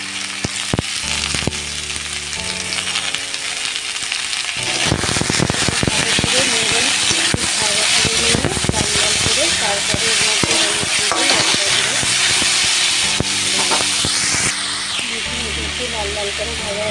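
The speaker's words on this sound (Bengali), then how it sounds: "এবার এর মধ্যে ওলকপি আর আলুটা কড়াইতে একটু দিয়ে দেবো।" Kohlrabi and potato fry in a wok for a Bengali kohlrabi curry, giving a loud, steady sizzle with sharp crackles and pops. A voice talks over the frying for most of the time.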